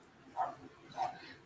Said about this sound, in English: Sorry if you can hear the dogs barking.